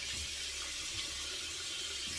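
Hot water runs steadily from a tap into a sink, a continuous hissing splash heard alone at moderate level with no pauses.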